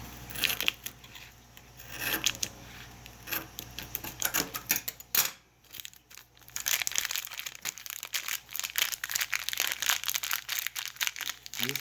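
A small vacuum-sealed packet of tea-bag-like envelopes is handled up close, giving steady crinkling and rustling plastic with brief scratches and a short pause midway.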